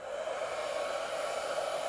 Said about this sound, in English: I got a hair dryer here in the toy room.